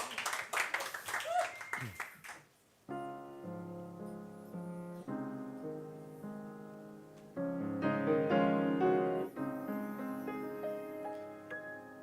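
An audience applauds at a live stage show with a couple of seconds of lively clapping that quickly dies away. Music with singing then starts and carries on to the end.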